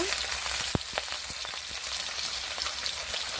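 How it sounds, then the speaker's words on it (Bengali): Prawns frying in hot oil with a pinch of salt, a steady close sizzle with a few sharp pops and crackles spread through it, no voices. "ওই তেলেতে এবার চিংড়ি মাছটা ভেজে নেবো ভালো করে একটু লবণ দেব"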